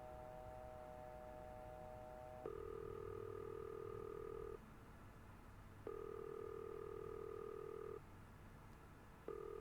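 A steady telephone dial tone in a video game alternates with a lower-pitched tone in long, even blocks, with the tone cutting in and out at regular intervals over faint background noise.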